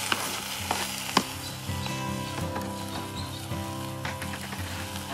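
Bacon frying in a camp oven over a campfire, a steady close sizzle with intermittent clicks and scrapes of stirring and a few sharp knocks.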